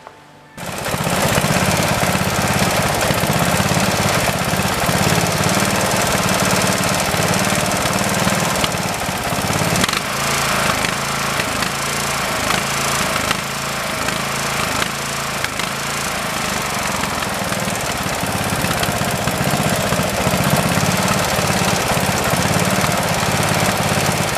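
A lawn tractor's small engine starts up and runs continuously at a loud, steady idle with a rough, knocking rattle throughout.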